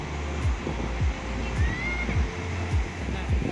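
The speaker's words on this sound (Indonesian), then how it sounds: "angin sepoi-sepoi dari pantai, dari laut gitu ya" Steady sea breeze and surf on Citepus beach at Pelabuhanratu, heard as a continuous broad rushing wash with wind buffeting the microphone and soft, low thumps recurring every half second or so.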